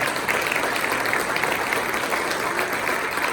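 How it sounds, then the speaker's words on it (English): Graduating classmates receive a steady round of applause from a university ceremony audience, dense continuous clapping filling the whole stretch without a break. "let's give all of our classmates a round of applause"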